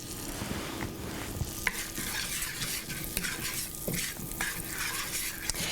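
Berries sauté in a pan with sugar and butter, a soft continuous sizzle broken by frequent scraping and clinking strokes of a utensil stirring against the pan, with no talk.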